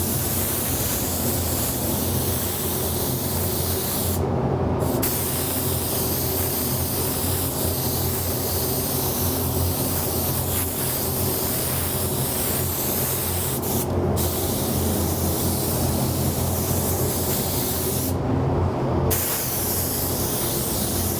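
A spray gun lays a medium wet coat of clear over buoys in a paint booth, producing a steady, loud hiss that runs nearly unbroken, with a few brief pauses.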